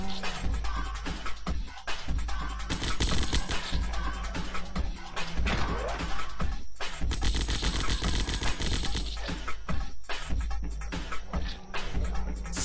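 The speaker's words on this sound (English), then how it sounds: "Assault rifle." Assault rifle fire in the zombie shooter game Zombocalypse, rapid loud bursts of automatic shots running almost continuously with brief gaps, close and dominant throughout.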